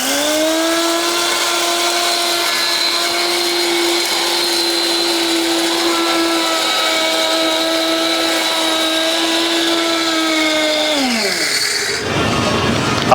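A small ice crusher and masala grinder machine runs at a steady, loud whine with strong motor harmonics for about eleven seconds, then winds down sharply as it is switched off, leaving a brief quieter tail.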